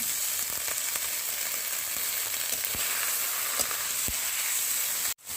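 Pumpkin flowers and black cumin frying in a pan, a steady loud sizzle with faint stirring clicks throughout, ending in a brief bump near the close.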